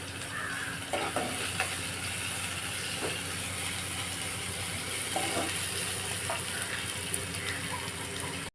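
Tomatoes and two green chillies sautéing in a pan for a goat eye gravy, a steady sizzle with scattered spoon scrapes and taps, close and without speech.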